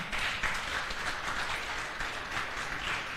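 Audience clapping at a closing ceremony, a dense, even patter of many hands sustained for the whole stretch at moderate, somewhat distant level without talk.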